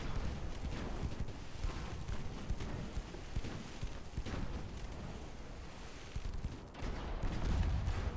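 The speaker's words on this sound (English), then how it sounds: "Whittling her down just by sheer volume of fire" Warship guns firing heavily in Ultimate Admiral: Dreadnoughts, a continuous dense rumble of booming salvos that stays loud and steady, with a heavier surge near the end.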